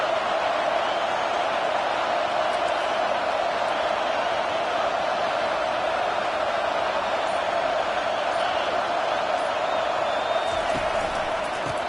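Football stadium crowd roaring in a steady, dense wash of cheering throughout, loud and continuous with no clear pauses, during a big moment of the game against Jacksonville.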